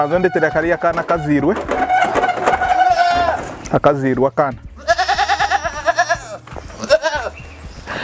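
Goats on a goat farm bleat repeatedly and loudly close by, their wavering cries overlapping with people talking.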